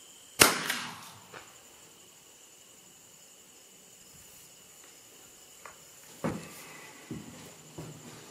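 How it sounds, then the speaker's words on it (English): A gas-operated 20-gauge shotgun fires a pheasant load outdoors, with one sharp, loud report near the start followed by a few faint clicks and knocks over a quiet background. "Recoil's not bad at all, but of course it is a gas-operated 20-gauge."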